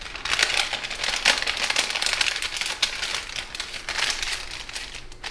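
Origami paper is folded and squashed by hand, a series of close crisp crinkles and crackling rustles in irregular bursts, with no talk.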